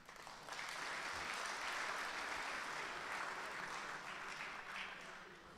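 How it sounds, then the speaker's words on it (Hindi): Audience applause at a mushaira poetry recital, a full, sustained round of clapping from a seated crowd swelling and holding steady before easing slightly at the end. "पहले तो आप अपने लिए तालियां बजा दीजिए"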